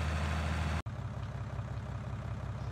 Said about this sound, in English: this tractor is a little bit underpowered for this plow